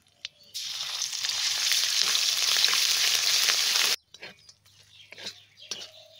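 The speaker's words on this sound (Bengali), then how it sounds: "আদা আর জিরে দিয়ে হালকা একটু ভেজে নিলাম" Ginger and cumin paste fries in hot oil in a pan for a Bengali potol dish, giving a loud, steady, hissing sizzle that runs for about three and a half seconds, then cuts off abruptly, leaving faint clinks and quiet stirring.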